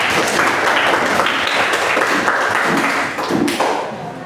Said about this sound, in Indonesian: Kasih tepuk tangan dulu buat Akela.